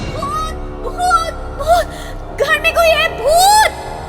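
A woman gasps in fright in a dramatized scene, several sharp breathy intakes and whimpering cries in uneven bursts, close and fairly loud over a soft background bed.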